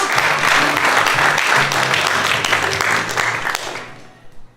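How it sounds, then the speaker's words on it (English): Audience at an improv comedy show breaks into loud, sustained applause and cheering that fills the room, then tapers off over the final second. "Big round of applause for Ed"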